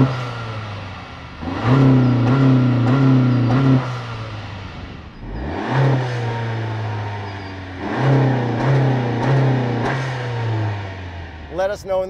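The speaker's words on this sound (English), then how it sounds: "let's settle the looks by whose car sounds better from the outside." Two 2023 Honda sedans, a Civic and an Accord, rev their engines one after the other, heard from outside. Each gives a sustained rising engine roar separated by a short lull, and brief speech can be heard near the end.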